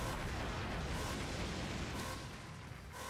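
Explosion in the video game Mega Man X Dive, a dense rumbling blast that fills the whole stretch and tails off slightly toward the end, with no talk over it.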